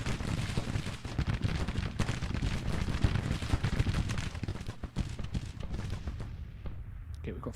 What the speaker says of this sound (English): Our Williams guns are firing